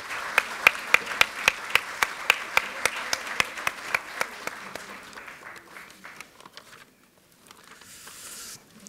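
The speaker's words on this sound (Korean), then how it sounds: "힘찬 박수로 맞이해 주시기 바랍니다." Applause at a Democratic Party assembly in the Korean National Assembly after a floor leader election, sharp distinct claps at first then thinning into a softer patter that fades to near quiet before rising again.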